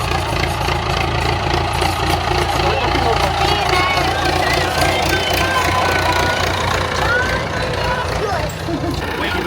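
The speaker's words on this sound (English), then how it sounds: "Driving a tractor." A tractor engine rumbles throughout, loud and close, with a knocking, idling quality and some background noise layered on top, in Zimbabwe.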